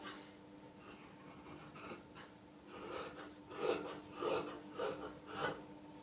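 Scissors cutting fabric by hand while tailoring a size 38 garment, a series of soft rasping snips and rubbing sounds, close and fairly quiet, with no talk.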